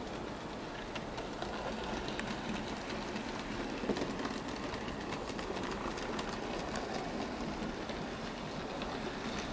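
A Hornby model of Stephenson's Rocket runs with its coaches along a model railway track, producing a steady, fine rattling clatter that stays even and close throughout.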